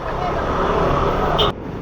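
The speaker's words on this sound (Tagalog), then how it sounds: "Napakahaba ng traffic na to. Puro truck pa." Dense road traffic crawling along a highway with many trucks, a steady loud engine rumble and roadway noise close by, ending with a brief sharp sound and a slight drop in level.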